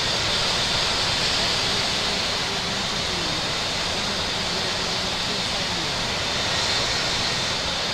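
An airliner takes off from runway 27 left in the Infinite Flight simulator game, its engines a steady, loud broadband roar that holds without a break throughout.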